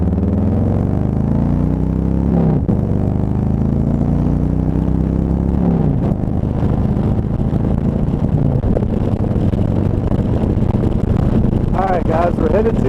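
A Harley-Davidson Road Glide motorcycle is ridden along the road, its engine rumbling steadily under constant rushing wind noise, with a voice talking over it.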